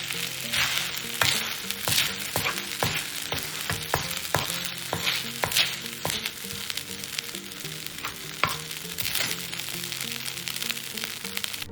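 Kimchi fried rice sizzles steadily in a wok, with a dense crackling hiss broken by repeated sharp scrapes and knocks of stirring throughout.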